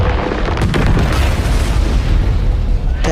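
A massive explosion blowing up an alien-infested place in an Alien film, a loud sustained roaring boom with rumbling debris filling the whole stretch.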